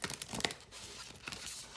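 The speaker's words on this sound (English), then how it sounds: "I'm gonna shuffle 3 times more in front of the camera" An oracle card deck for love being shuffled close by, giving quick papery riffles and crinkly card flicks in short bursts, quiet and without talk.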